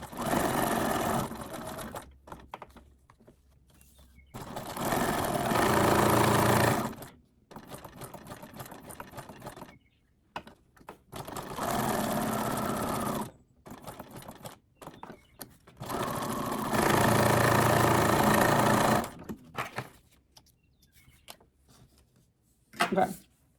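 Sewing machine zigzag stitching a paper junk journal tag, running in three long steady bursts with pauses between, near and fairly loud.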